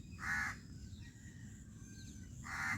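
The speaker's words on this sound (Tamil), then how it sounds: "காகம் வந்து கற்றுது" A crow flying over rice fields gives two loud, harsh caws about two seconds apart, with quiet outdoor background between them.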